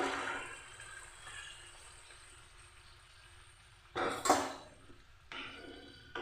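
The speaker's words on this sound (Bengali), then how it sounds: "এবার আমি দিয়ে দিচ্ছি পরিমাণ মতো জল" Water poured into a pan of spiced fish curry with potatoes, heard as a short loud splashing gush near the end after a quiet stretch of low background hiss.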